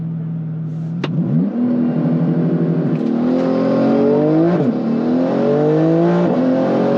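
A Porsche GT2 RS without a rear wing launches on a solo quarter-mile run, its engine roaring loud and near as it climbs through the revs, with several upshifts marked by brief pitch drops before the note climbs again.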